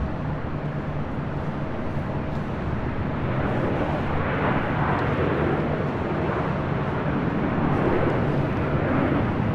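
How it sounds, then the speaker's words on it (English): A Qatar Cargo Boeing 777 freighter arriving at LAX from Amsterdam, heard as a continuous, broad low jet roar that holds steady and swells slightly toward the end, with no voices. "The Big Q, Qatar Cargo, Flight 8105, coming in from Amsterdam, 777 freighter."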